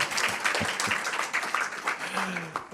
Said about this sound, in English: If you're going to clap, you should clap enthusiastically.